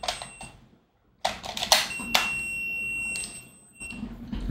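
Sega Dreamcast VMU memory unit emitting a short, shrill electronic beep, a steady high tone lasting a couple of seconds amid handling noise and faint room sound, with no talk over it.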